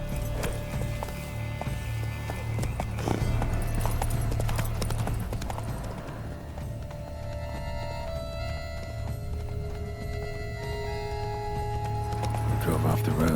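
Roach, a horse in The Witcher 3 video game, gallops with steady clip-clop hooves that run the whole way through, set against continuous game music and ambience, while a voice speaks over it.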